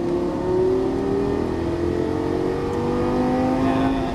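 Lamborghini Gallardo LP-550 accelerating out of a turn on a track, its engine holding a steady, loud drone that rises gently in pitch, continuous and close with no talk.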